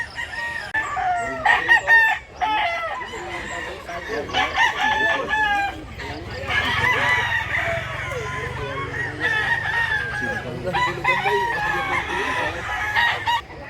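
Roosters crow repeatedly at a busy chicken market in Mantalongon, Barili, Cebu, several loud calls overlapping amid crowd noise, with people talking in the background.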